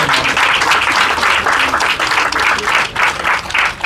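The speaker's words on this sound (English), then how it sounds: "Let's give him a resounding round of applause." Loud, sustained applause from an outdoor audience at a sod-turning ceremony, many people clapping steadily with rhythmic swells throughout, no talking over it.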